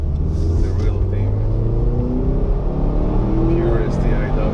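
A Subaru WRX STI engine pulls hard in third gear, a loud, steady low drone with rising tones as the revs climb, heard from inside the car while a person talks over it.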